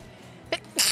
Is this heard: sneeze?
yes